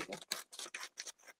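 Scissors cut paper in a classroom craft activity, six or seven quick crisp snips in an even rhythm, close and alone without talk.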